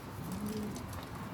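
Racing pigeons coo softly inside a loft, a low, quiet murmur of a few birds carrying on steadily with faint background hiss and no voices.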